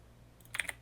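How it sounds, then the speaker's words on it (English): Short burst of typing on a computer keyboard, a few quick close clicks in the last half second after near silence. "Let's type in"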